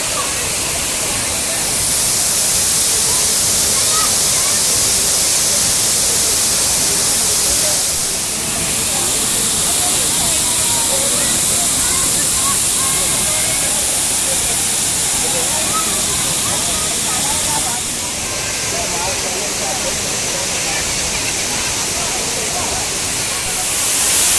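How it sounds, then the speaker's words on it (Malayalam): Achankallu waterfall at Konnakkad, Kasaragod, roaring as a steady, loud, broadband rush of falling water that fills the whole stretch without a break. "ഇതാണ് വെള്ളച്ചാട്ടം"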